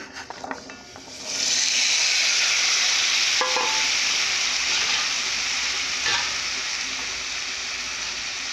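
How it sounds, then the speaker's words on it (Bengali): Potatoes for a singara filling drop into hot oil, and a quiet clatter gives way to a sudden loud, sustained sizzle with faint stirring knocks under the steady hiss. "বাদামগুলো ভাজার পর আলুগুলো ভেজে নেব"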